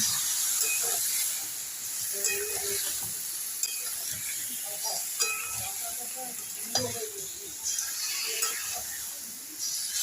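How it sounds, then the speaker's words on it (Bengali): Marinated chicken pieces poured into a hot pan and frying with a steady close sizzle and hiss, broken by occasional stirring scrapes and brief clinks. "এবার আমি মাংসগুলো ঢেলে দেবো, ম্যারিনেট করে ঢেলে দিলাম"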